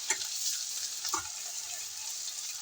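Steady, bright sizzling of garlic-ginger paste frying in a hot pan, with a couple of soft stirring scrapes; no voices.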